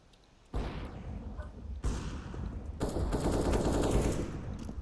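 Bursts of rifle and automatic gunfire in the CS:GO video game, loud and dense, starting in short volleys and building into sustained firing, with no talk over it.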